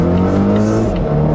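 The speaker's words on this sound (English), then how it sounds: "It's a pretty loud engine too for a luxury car." A 2018 Volvo S90 T6 Inscription luxury sedan engine accelerates with a loud, steady drone heard from inside the cabin, continuous and full for about a second and a half with no talk over it.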